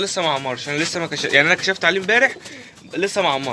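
Pigeons in a loft give soft, throaty coos close by, running steadily underneath a man's continuous speech.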